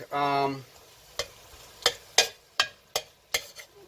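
Ground beef cooks down in a pan for vegetable beef and tortellini soup with a soft low sizzle, punctuated by a series of sharp spatula clicks and scrapes at uneven intervals, after a brief tonal beep at the start.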